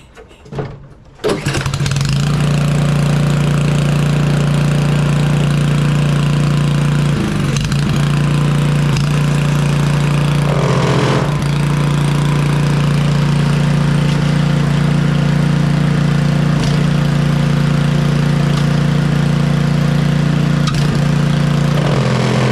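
A Simplicity snow blower with a Briggs & Stratton engine kicks into life after a brief crank, then settles into a loud, steady droning run with small surges and wavers in pitch, heard close with no talk.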